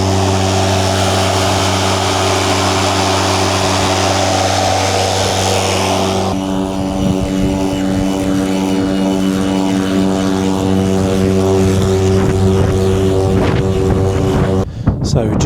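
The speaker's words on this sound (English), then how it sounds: "we're just doing a bit of mowing with the new Ego mower, which has the mulch and bag function" A new 2025 EGO cordless lawn mower with a mulch and bag function cuts and mulches grass, giving a steady, close electric motor drone with a whining tone. The pitch shifts around the midpoint, and a short thump comes near the end.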